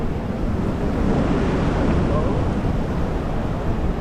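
Ocean waves surge beneath a fishing pier in San Diego on a choppy day, a continuous loud roar of rough surf mixed with wind buffeting the microphone.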